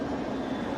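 A train arriving at a station, heard as a steady, fairly loud rumbling roar with no clear breaks, alone with no voices.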